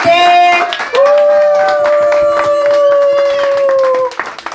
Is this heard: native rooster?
no